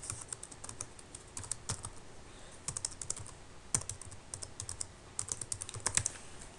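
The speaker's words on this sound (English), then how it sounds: "Then I'm just going to type in an address." Computer keyboard typing of an address into a Visual Basic 2008 program, with irregular bursts of crisp key clicks and short pauses, close and fairly quiet, no talking.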